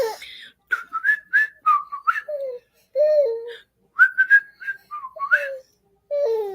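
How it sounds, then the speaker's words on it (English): A person whistles a wandering, tuneless melody in short phrases separated by brief pauses, close and clear against a quiet background. "He loves whistling."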